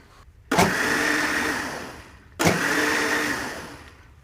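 Homemade curd beaten with ice-cold water in an electric mixer to separate butter: two loud, steady whirring bursts of about two seconds each, the motor starting abruptly and winding down between runs, close and with no voices.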